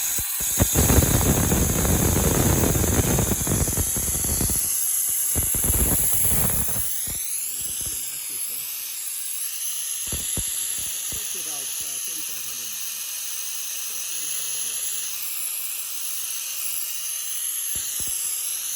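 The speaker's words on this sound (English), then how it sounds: "So we're going to open the valve here." Compressed air hisses steadily through an opened valve on an isodynamic test rig, a broad loud rush with clattering and talk early, then continuing as a constant hiss with faint intermittent squeaks.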